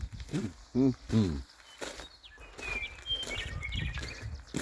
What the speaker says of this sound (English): I'm sure you can hear the birds singing here in the yard.